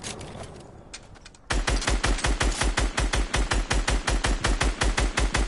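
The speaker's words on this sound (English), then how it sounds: "So I want you to shoot that tree over there." Rapid assault rifle bursts ring out in a video game, aimed at a tree trunk: after a quieter lead-in with a few scattered shots, a loud, steady run of evenly spaced reports continues to the end.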